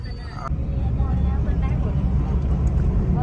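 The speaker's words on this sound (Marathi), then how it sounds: "सगळीकडे ट्रॅफिक आहे बघा ट्रॅफिक किती झाले बघा" Heavy road traffic in a town fills the scene with a continuous, loud, low engine rumble that holds steady throughout, with voices audible over it.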